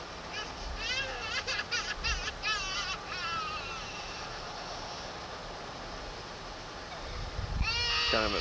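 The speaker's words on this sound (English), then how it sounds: "Down here in this valley, like Jake said, there are some sheep down there." Sheep bleat in a valley, several calls near the start and a louder burst at the end, heard over a steady rumbling background.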